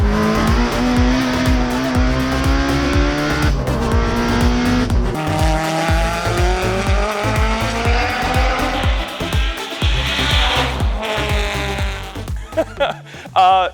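A race car laps a circuit at full pace, its engine screaming and dropping through gearshifts while the tires squeal through corners, loud and continuous for most of the run before briefly cutting out near the end.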